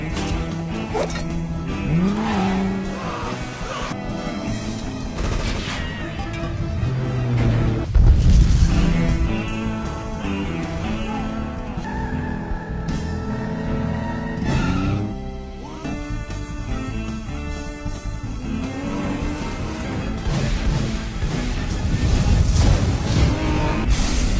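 Animated car chase from Cars 2, a busy film soundtrack of revving engines, tire squeals, whooshes and impacts layered over dramatic music, loud and continuous throughout.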